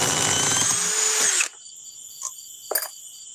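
An inexpensive power drill whirs loudly with a steady high whine for about a second and a half, then cuts off, followed by a few faint clicks and handling knocks.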